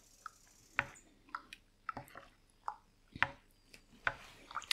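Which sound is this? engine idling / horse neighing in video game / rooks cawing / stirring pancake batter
stirring pancake batter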